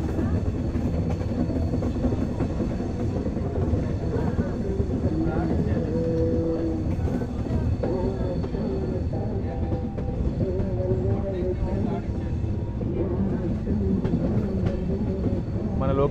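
The 22618 Bengaluru-Tirupati Intercity Express runs on the Chittoor-Tirupati line. Its steady, loud, continuous rumble of wheels on rails carries faint rhythmic clatter throughout.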